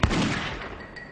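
A single loud gunshot sound effect in a documentary about early Hawaiian history, a sharp crack followed by a broad, rolling echo that fades out, with no talk over it.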